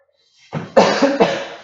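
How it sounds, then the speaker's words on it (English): A close, loud fit of coughing: three or four harsh coughs in quick succession, with no other sound around them. "I have to cough"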